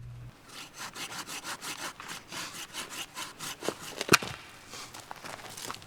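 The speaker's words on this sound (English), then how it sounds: "Andrew continued sawing larger pieces up." Hand saw cutting larger pieces of firewood at a forest campsite, a steady back-and-forth rasp of even strokes up close, broken by a sharp crack partway through.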